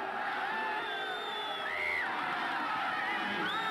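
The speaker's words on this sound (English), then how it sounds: "Fans are booing. They wanted that infraction call." Crowd at a high school football game reacting to a missed infraction call, a distant sustained mass of voices with rising shouts and whoops, moderately faint.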